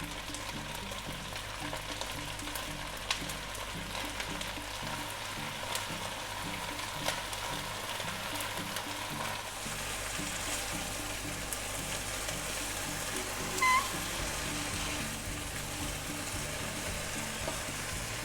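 Bean sprouts stir-frying with pork belly in a hot pan, a steady, even sizzle with faint stirring and scraping, continuous and fairly close, no talking.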